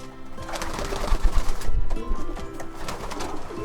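Racing pigeons coo in a loft, soft rolling calls repeating close by over a steady background of more birds, with a brief flutter of wings.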